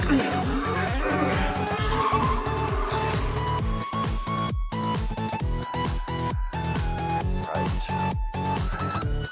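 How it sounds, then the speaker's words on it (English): An F1 race car spins out at a sharp corner, engine revs rising and dropping in rapid stuttering bursts with tire squeal and skidding, loud and close throughout. "at the very first sharp corner, the car spun out of control"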